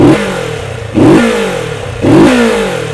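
A 2022 Kawasaki Z650 RS motorcycle with an underbelly exhaust revving loudly up close, three repeated throttle blips rising and falling in pitch over a steady idle.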